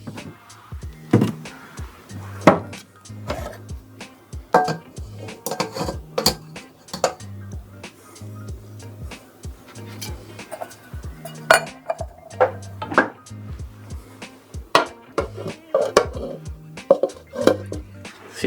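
Cooked celery and onions drained from a large pot with no lid big enough to fit, heard as repeated clanks, knocks and scrapes of metal with splashing, loud and close and uneven in rhythm.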